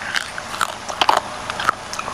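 Someone bites and chews a hard kerupuk cracker up close, producing a series of loud, sharp crunches and crackles in quick irregular succession, with no talking.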